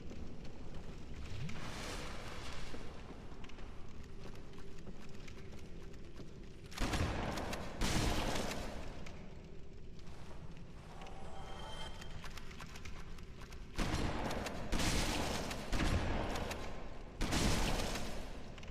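Gunfire in a Dark Souls Remastest mod, heard as loud bursts of shots with quieter stretches of game noise between them and no talking.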